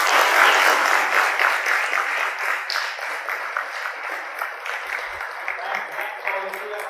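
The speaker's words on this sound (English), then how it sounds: "I give one round of applause." An audience at an IIT Madras EE Research Club talk breaks into sustained applause, loud at first and slowly fading over several seconds.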